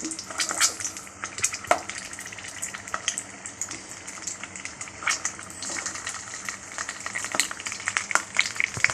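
Stuffed bell peppers (bharleli dhobli mirchi) frying in a little oil over a low flame, giving a steady close crackling sizzle with scattered sharp pops and spatters throughout, no voices.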